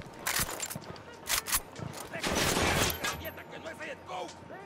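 Gunfire in Ghost Recon Wildlands: quick bursts of shots and a dense volley amid combat noise and shuffling movement, with voices talking over parts of it.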